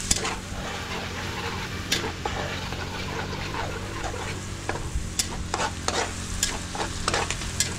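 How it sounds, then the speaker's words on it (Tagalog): Shrimp paste (bagoong alamang) sautéing with garlic and chili in a pan, with a steady sizzle and frying crackle under sharp scrapes and knocks of a stirring utensil, close and continuous. "magigisa tayo ng bagoong"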